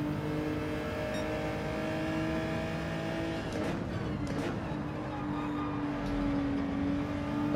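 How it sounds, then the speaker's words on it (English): Race car engine in Gran Turismo 7 at the Kyoto Driving Park, over-revved: a loud, continuous, buzzing engine note with rising and falling pitch as it revs and shifts, with brief tire noise and no talking. "Ooh, I over-revved that a little bit."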